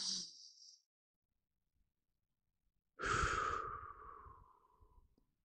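Deep breathing in a sophrology relaxation exercise: a short airy breath at the start, a few seconds of silence, then a long, close, audible exhale that slowly fades.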